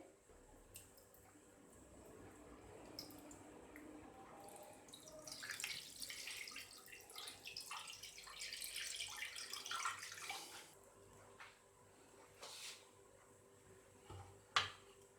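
Water runs from a tap into a cooking pot set up with a rack inside for steaming chicken, starting faint and dripping, then building into a fuller splashing pour before tapering off, with a few sharp clinks near the end.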